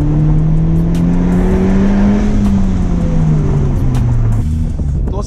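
Honda Civic Type R accelerating hard, a loud steady engine drone that rises and sags in pitch, continuous and close throughout with no voices.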